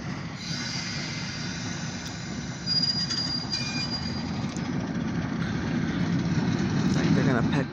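An Alco S-2 light power train rolls along the rails nearby in a steady rumble, with a thin, high wheel squeal rising over it partway through.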